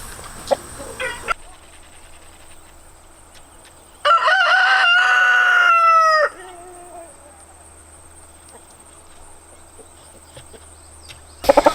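A rescued hen from an egg-laying facility gives one drawn-out, tonal call of about two seconds, loud and close, against a quiet background with faint insect hum.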